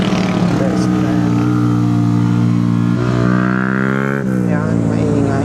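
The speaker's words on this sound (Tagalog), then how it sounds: "Yan, maingay, motor ni Kuya." A loud, steady motorcycle engine drones close by, its pitch climbing twice as it revs up.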